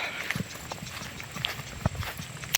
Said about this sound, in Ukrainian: Є в мене така кобила